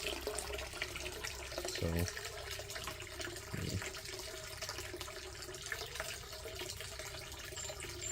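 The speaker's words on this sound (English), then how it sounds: "We've got our floating plants in the pond, which as you can see is running nicely." Water trickles steadily into a small apartment pond stocked with floating plants, a little light and aquarium plants, a soft continuous flow running throughout, with brief talk near the start.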